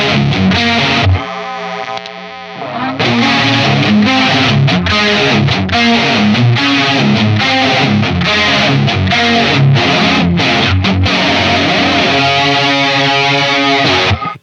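A loud electric guitar plays through an Old Blood Noise Endeavors Excess V2 pedal, modulation feeding heavy distortion, with a chorus-like wobble, chords ringing continuously with a brief quieter dip early on.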